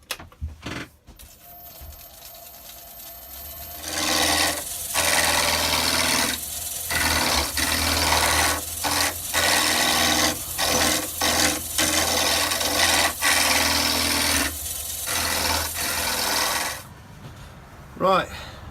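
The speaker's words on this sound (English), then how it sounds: "mounted the pen blank, or pen blanks, on the pen mandrel, on the lathe, everything's set up, tension's on" A slimline pen blank on a mandrel spins on a wood lathe while a tool cuts it, making a loud continuous rasping scrape in long bursts broken by short pauses, close up with no talk.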